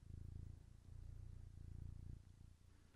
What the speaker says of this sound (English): Caroline, just tell everyone how much you purr.